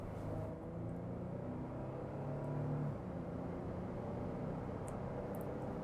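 Nissan Frontier Pro4X pickup with a naturally aspirated engine on the highway, giving a steady, close cabin drone and road rumble that holds at a constant level throughout with no pauses.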